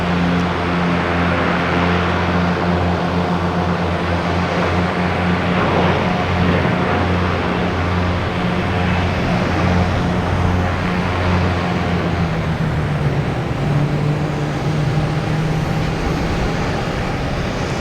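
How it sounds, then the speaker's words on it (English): A Delta propeller plane taking off at Boston Logan Airport gives a sustained loud engine roar with a low droning propeller hum that shifts in pitch near the end, heard alone without speech. "Sounds like a Delta prop plane."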